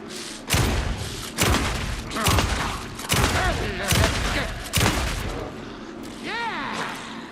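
Heavy gunshots from Alan Wake 2, about six loud booming blasts fired every second or so, each with a ringing tail, followed by a lighter swooping effect near the end.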